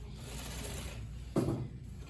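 A sewing machine stitches a holding stitch along bias-cut fabric, giving a faint, steady mechanical hum with a short, louder burst of running near the end.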